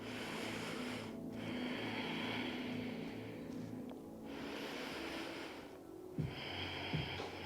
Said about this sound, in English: Take 2 or 3 deep breaths.